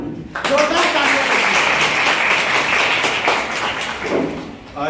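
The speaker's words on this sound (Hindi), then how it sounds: "जोरदार तालियां।" Audience clapping at a sewing and beauty parlour training centre opening in Parasia, a broad burst of applause running through most of the clip with a voice briefly heard at the edges.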